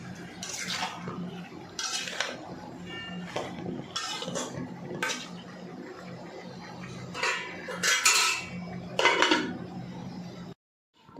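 Prawns are stirred and sautéed in a pan for a pointed gourd and prawn curry, with a metal spatula clanking and scraping in irregular bursts over a low frying hiss, then a sudden stop into silence.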